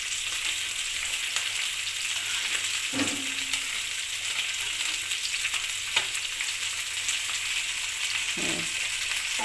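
Small fish fry in hot oil in a pan, a steady bright sizzle with occasional soft clinks and stirring sounds, heard close and alone.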